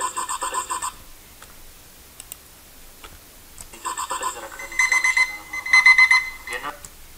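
Unwanted phone ring in an audio recording: repeated electronic ringing bursts, one burst at the start and a longer run of several loud rings later, with short gaps between them.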